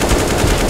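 Rapid automatic gunfire in CS:GO, a loud, dense burst of close shots lasting under a second.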